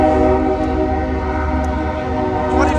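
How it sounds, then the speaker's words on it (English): A loud, steady rumble of a Union Pacific intermodal stack train rolling past close by at a crossing, with droning tonal hum and faint clanks over the constant roar. "we got a Unipacific stacker train going northbound"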